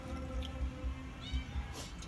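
A cat meows several times in short repeated calls beside a riverside meal by the Mekong, moderately close, with faint background noise and no speech over it.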